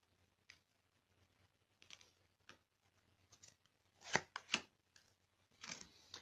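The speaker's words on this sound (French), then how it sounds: "Bon, je vais couper mon jeu." A tarot deck being cut by hand, heard as quiet, close card slaps and soft shuffling scrapes in scattered bursts, growing slightly louder toward the end with no talking.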